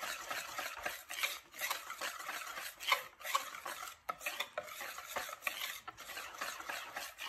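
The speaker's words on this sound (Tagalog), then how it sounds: "Haluin ulit natin." Ube tikoy mixture being stirred in a bowl, a steady run of soft scraping and clinking of utensil against the container, fairly close and continuous with no talking.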